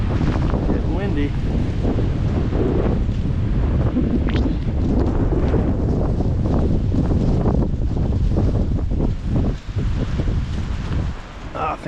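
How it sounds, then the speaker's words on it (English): Constant heavy wind on a snowy day roaring and thumping against the microphone outdoors, with gusty surges and no pause. "Getting windy."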